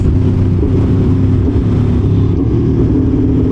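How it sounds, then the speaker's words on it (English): Aprilia Tuono V4 1100 Factory motorcycle with a quick shifter rumbles loud and steady under riding, a deep continuous engine drone with wind noise and no speech. "maybe because this bike sounds so nice, I don't think it's too loud"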